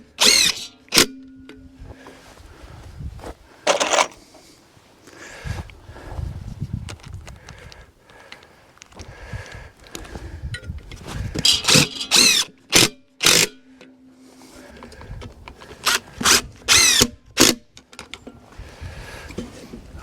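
A power drill drives screws into the foundation of an off-grid workshop, with short whirring bursts and sharp clicks and knocks at close range, amid outdoor handling noise.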